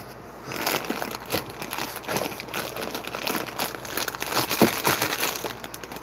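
Plastic packaging of Famous Amos cookies crinkles and rustles close by in repeated irregular bursts, fairly loud and without talking.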